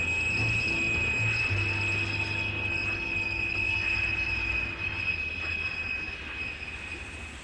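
A steam train runs with a steady rumble and rolling rail noise, a sustained high whistle-like tone held over it, and insect-like chirping mixed in; the sound stays loud and continuous, easing slightly toward the end.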